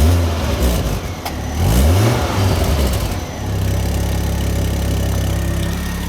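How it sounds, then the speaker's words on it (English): Ford Focus RS MkII on its stock exhaust revs loudly up and down close by, then settles into a steady rumbling idle with no talking. "This is the stock exhaust."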